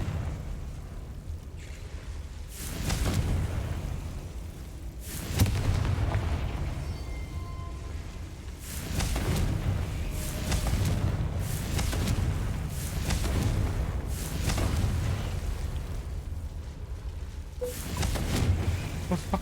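Repeated booming blasts of the Confringo explosion spell in a Harry Potter wizard video game, several heavy rumbling bursts spaced a few seconds apart over a steady background roar.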